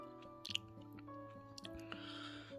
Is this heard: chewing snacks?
yes